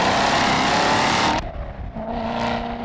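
A 2015 Chevrolet Corvette Z06 engine roars loudly under hard acceleration, then drops off briefly as if shifting gear before building again in a rising, close, powerful drone.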